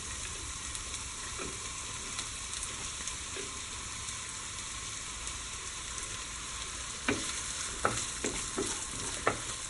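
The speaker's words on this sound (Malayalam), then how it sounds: "എണ്ണ ചൂടായി കഴിയുമ്പോൾ അതിലേക്ക് സവാള അരിഞ്ഞ് ചേർക്കാം." Chopped onion sizzles in hot oil for a Kerala-style beef cutlet, a constant bright hiss close by, with a cluster of sharp scrapes and clinks toward the end.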